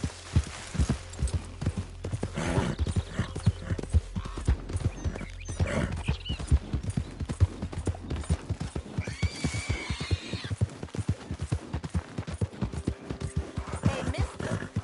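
Horse hooves clip-clop steadily in Red Dead Redemption 2, with whinnies and neighs breaking in, all set against a constant low game ambience.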